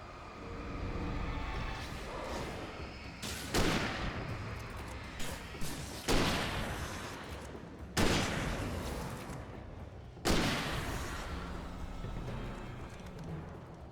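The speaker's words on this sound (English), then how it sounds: "I'll use the hunting rifle." Hunting rifle shots in the video game Alan Wake Remastered: four loud, separate booming reports spaced a couple of seconds apart, each with a long decaying tail over a low background rumble.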